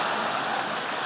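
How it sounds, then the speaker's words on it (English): Audience applause filling a basketball stadium, a steady, even wash of many hands clapping, moderately loud and unbroken for the brief moment. "did I ever think I would be being applauded by a large audience in a basketball stadium"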